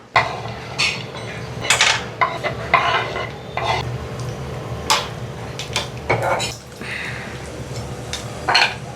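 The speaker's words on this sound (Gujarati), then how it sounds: "આને પહેલાં સોટે કરી દઈએ ઘીમાં" Makhana sautéing in ghee in a pan, loud close stirring with repeated metal spoon scrapes and clinks against the pan over a soft continuous sizzle.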